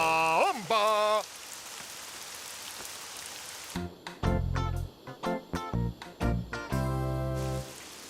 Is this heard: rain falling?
yes